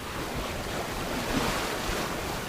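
Steady roar of wind sweeping over open water, with broad rushing noise and waves washing underneath, constant and loud with no voices.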